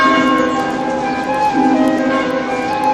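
Mill bell ringing with a steady sustained metallic tone and repeated strikes, loud and close with no voices.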